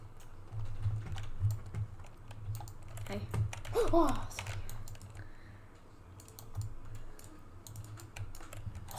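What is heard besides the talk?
rapid spam clicking of a computer mouse during PvP gameplay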